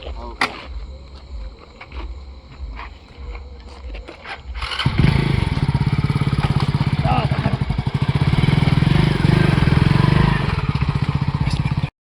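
A motorcycle engine idles with a steady rattling putter, then revs up loud and close and keeps running, with people talking faintly underneath.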